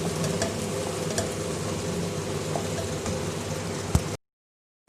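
Makhadi halwa is stirred in a pan, giving a continuous soft scraping and sizzling for about four seconds before cutting to silence, with one sharper knock near the end.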